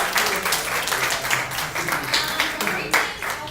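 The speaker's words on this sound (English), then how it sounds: "I want to give you guys another round of applause." A small group at a training session claps, with individual hand claps audible in an uneven, moderately loud burst of applause and some voices mixed in.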